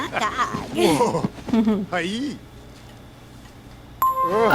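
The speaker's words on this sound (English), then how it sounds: "We got the chimes." A bright chime rings out in The Sims 3, sounding once, clearly and loudly, after a stretch of lively talk and chuckling.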